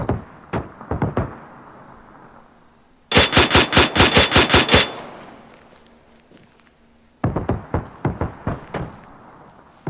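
Video game machine gun fire: bursts of rapid automatic gunfire in three strings, the middle one loudest and fastest, with quieter gaps between and no talking.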